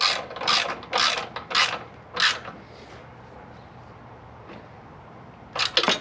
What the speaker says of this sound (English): I'm using an extension with a 3/8 drive ratchet.